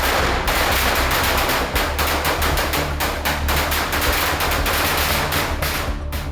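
Firecrackers bursting inside an excise deputy commissioner's office during a celebration for the new UDF government, a dense, continuous crackling string of rapid loud pops lasting throughout, with no voices.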